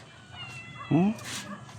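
A cat named Pita gives one short, clear meow close by, wanting pandesal, with household chatter softly around it.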